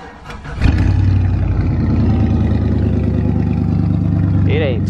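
A 2003 Chevy Silverado truck engine cranks briefly and catches, then settles into a loud, steady rumbling idle up close, with a short chirping sound near the end.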